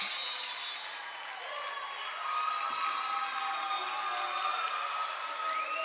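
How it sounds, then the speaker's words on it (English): Crowd noise at a girls' high school basketball game in Norristown, a steady broad roar of cheering and applause filling the gym, rising slightly midway and holding loud throughout. "A lot of energy here in the crowd at Norristown."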